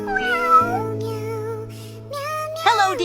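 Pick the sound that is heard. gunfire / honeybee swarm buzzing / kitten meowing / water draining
kitten meowing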